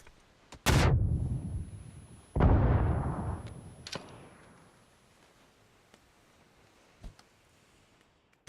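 A grenade is lobbed in a competitive online shooter match, setting off two loud booming blasts a couple of seconds apart, each trailing off into a long rumble, followed by a few fainter distant pops.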